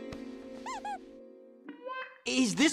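A squeaky toy in an animated cartoon gives a few short, high, wavering squeaks close by over a steady low hum, followed by a voice and a louder burst of sound.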